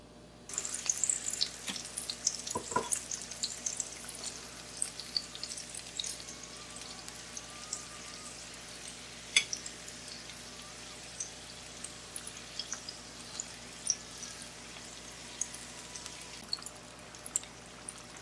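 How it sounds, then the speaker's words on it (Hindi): Mini Punjabi samosas deep-frying in hot oil, a steady crackling sizzle with scattered pops and bubbling, fairly quiet and close, with a couple of sharper clinks early on. "अब इसे चले फ्राई करते हैं"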